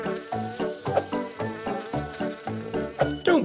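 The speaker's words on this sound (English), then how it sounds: "Oh, there's a cute little bee." Cartoon bee in a 3D kids' animation, a steady rhythmic buzzing that pulses about three times a second against light music, with a rising twang at the end.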